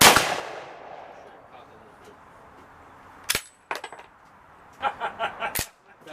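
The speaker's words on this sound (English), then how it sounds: "I'm just gonna shoot the right side." Mannlicher 1888/90 rifle fired outdoors: an opening loud report with a long decaying echo, then a sharp single shot and a later crisp one, with metallic clinks of the action and faint talk between.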